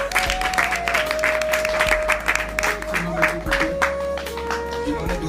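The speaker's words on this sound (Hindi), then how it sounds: "उनके लिए तालियां" Applause for the first-place prize winner at a prize distribution ceremony, a steady wash of audience clapping that lasts throughout, with a sustained tone and some talk over it.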